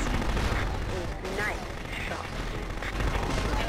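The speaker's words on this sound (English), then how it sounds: "everything will explode because I will fire missiles at it!" Missile strikes and explosions in the video game Future Cop LAPD, heard as a continuous, loud barrage of blasts and weapon fire that fills the whole stretch.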